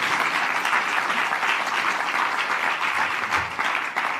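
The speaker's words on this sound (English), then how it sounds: "that's an applause line." Steady, dense applause fills a room at a bill enrollment ceremony for the Respect for Marriage Act, sustained and fairly loud throughout with a faint voice underneath.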